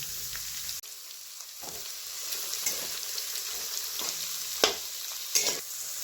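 Green chillies and capsicum frying in a pan for masala rice, a steady bright sizzle with intermittent stirring scrapes and clinks, close and moderately loud, no talking.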